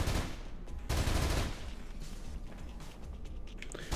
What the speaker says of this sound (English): Alright, well, they're shooting at me.